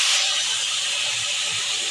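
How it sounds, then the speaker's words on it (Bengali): Water hits a pan of spiced, fried potatoes for a tangy-spicy rohu fish curry, bursting into a bright, steady sizzling hiss that fades slightly and runs on alone. "এবার জল দিচ্ছি আমি"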